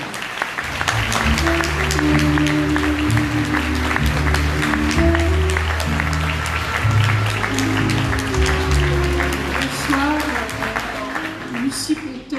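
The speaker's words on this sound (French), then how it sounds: "Madame Catherine Jacob, sous vos applaudissements" A festival audience applauds an actress welcoming her onto the stage at a tribute to a singer: loud, sustained, crowded clapping with some cheering, while a voice talks over the ovation and music plays underneath.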